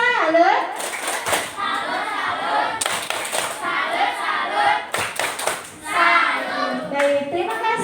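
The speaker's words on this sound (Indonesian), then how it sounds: "Kita tepuk salut dulu untuk kelompok integritas." Classroom of students doing tepuk salut, a rhythmic group clapping chant, with patterned bursts of clapping interleaved with children chanting and voices throughout.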